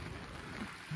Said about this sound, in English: And it hasn't stopped raining for 2 hours now.